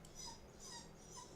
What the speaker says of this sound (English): As soon as you shut the door, he whines.